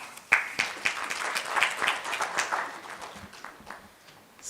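Scattered audience applause at a spectrum management conference in India, a few claps standing out before the rest join in a moderate, fairly distant patter that fades after a few seconds.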